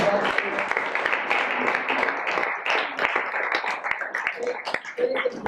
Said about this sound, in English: I wanted to give a big round of applause to team moms